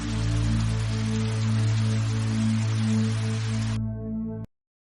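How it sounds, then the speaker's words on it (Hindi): Heavy rain pours outside an old haveli as a constant hiss under low, droning music, then stops abruptly. "बाहर बहुत तेज बारिश हो रही है।"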